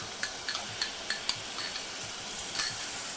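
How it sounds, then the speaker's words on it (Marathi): Coconut paste sautés in a pan for a potato curry, with a soft sizzle under rhythmic spatula scrapes and clinks every fraction of a second, close and moderately quiet. "खोबरं टाकून मी छान मिनिटभर परतून घेतले"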